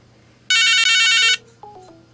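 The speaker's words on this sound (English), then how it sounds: "It rings." A cheap Chinese telephone butt set rings on an incoming house call, a loud electronic ringtone burst of just under a second, a short break, then another, followed by a few fainter tones.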